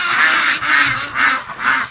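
Muscovy ducks at a breeding pen give four loud, close, evenly spaced calls in a steady rhythm, with no voices over them.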